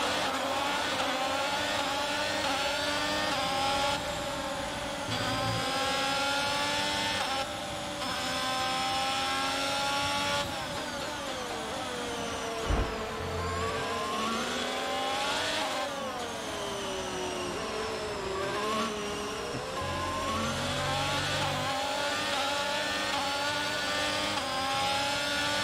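An F1 car engine racing in the game F1 2022, played in VR on PC, with a sustained high-pitched whine that rises and falls through gear shifts, loud and continuous with no talk.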